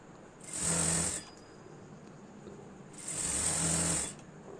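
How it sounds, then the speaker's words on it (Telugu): Sewing machine stitching blouse piping with a double presser foot, running in two short close bursts of rapid whirring with a quiet pause between them. "నేను పాదం డబల్ పాదం మీదనే స్టిచ్ చేస్తున్నాను"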